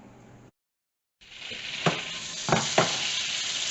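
Onions dropped into a hot pan of butter and canola oil hiss into a loud sizzle after a short silence, with a few sharp pops and stirring clatters on top.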